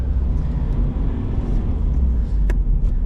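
A 2022 Subaru BRZ doing a J-turn, heard from inside as a loud steady engine drone with heavy low rumble and road noise, one brief higher squeak near the end, no talk.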